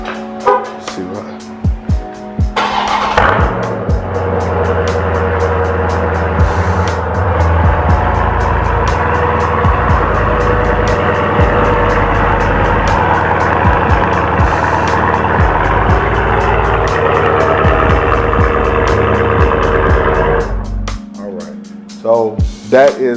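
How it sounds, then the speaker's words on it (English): Dodge Challenger 392 cold start through factory exhaust tips: a sharp crank and loud bark, then a steady deep rumbling high idle that cuts off near the end, with brief talking before and after. "So that is the cold start of the factory tips."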